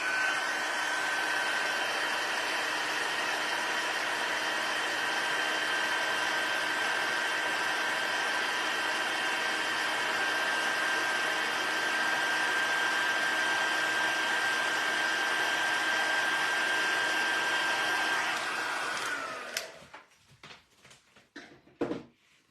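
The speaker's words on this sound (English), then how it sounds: "we'll grab our heat tool and just give this a quick zap." A handheld heat tool blows over a paper craft card with a loud, steady whirring roar that holds for about twenty seconds, then cuts off abruptly, leaving a few quiet handling clicks.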